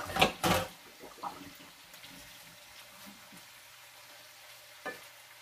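Pre-seasoned beef smoked sausage fries in a pan: a couple of loud sizzling bursts at the start as the pieces go in, then a softer steady crackle continuing to the end, with one more brief pop near the close.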